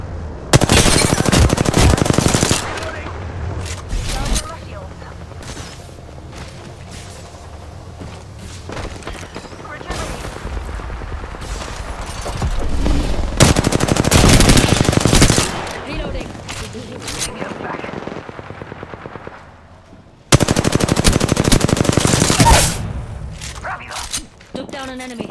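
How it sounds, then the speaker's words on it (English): Automatic gunfire in the Apex Legends video game, loud sustained bursts with pauses between them and scattered single shots, alongside a voice talking in between. "Being shot at."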